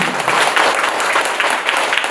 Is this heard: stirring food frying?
no